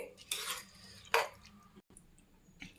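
A pot of methi matar pulao with soaked basmati rice is stirred with a utensil, giving two short scraping, sloshing bursts and a few faint clinks, close by with no talk.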